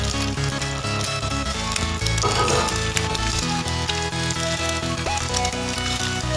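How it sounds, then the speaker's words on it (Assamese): An egg fries on a heated aluminium lamp, giving a loud, dense, continuous sizzle and crackle that stays at a steady level from start to finish, with no talk over it. "এতিয়া আমি কণীটো অলপ লৰাই দিওঁ চাউল দেখিবলৈ পাইছে যথেষ্টখিনি গৰম হৈছে তথাপি কণীটো হ'বলৈ লৈছে"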